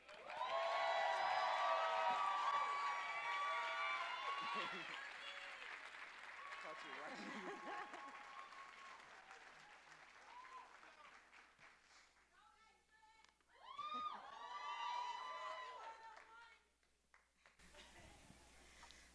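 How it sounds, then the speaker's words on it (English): A rally crowd on human rights applauds and cheers loudly for the next speaker, the clapping fading and then surging again amid scattered whoops. "Everyone give a round of applause to Ms."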